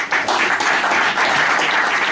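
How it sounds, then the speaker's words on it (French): Staff at an oncology centre applaud the doctor and team, a short burst of loud, close, dense clapping. "Et on applaudit le docteur Zrak et l'équipe"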